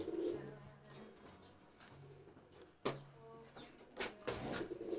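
Pigeons coo softly in a loft, low repeated calls rising and fading over several seconds amid faint background rustling, with no talk.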